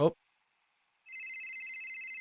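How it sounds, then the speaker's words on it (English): A computer gives out a telephone-style ring, a rapid trilling electronic tone that starts suddenly and keeps going at a steady level. A short burst of voice comes just before a brief silence. "My computer just started ringing."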